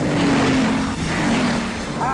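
A Bugatti Veyron with 1,000 horsepower accelerating hard at high speed, a dense, loud engine drone with a rising tone, overlaid by someone talking excitedly.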